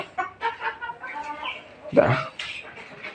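Backyard chickens give short, close clucks in quick bursts, with one louder squawk near the middle.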